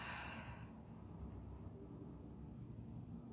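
A soft, slow exhale through the mouth during a chair yoga breathing exercise, faint and close, starting with a brief airy rush that fades into quiet room hiss.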